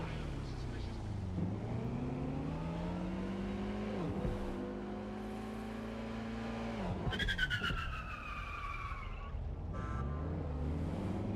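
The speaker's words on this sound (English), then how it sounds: "I don't like that all the cars are electric, though, because they're so quiet." An electric car in the futuristic London of the video game Watch Dogs: Legion whirs along with a smooth whine that rises and falls in pitch, broken by a sharp burst of tire squeal midway, all fairly loud and close.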